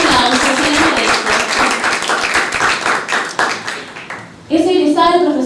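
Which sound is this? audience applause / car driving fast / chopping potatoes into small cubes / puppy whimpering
audience applause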